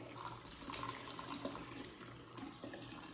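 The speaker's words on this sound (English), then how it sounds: "I'm just going to put some water on the beauty blender here, and I'm gonna make sure it's really saturated with the water" Tap water pours steadily onto a beauty blender makeup sponge at a sink, a continuous close splashing hiss with no pauses.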